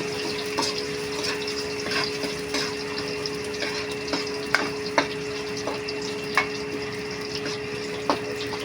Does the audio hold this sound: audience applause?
no